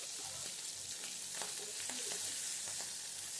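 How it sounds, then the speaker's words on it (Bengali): Fish pieces fry in hot oil with a dense, steady sizzle and faint spattering pops, close and continuous at an even level throughout. "ঘুরিয়ে ঘুরিয়ে মাছটাকে খুব সুন্দর করে আমি কিন্তু ভেজে নিচ্ছি"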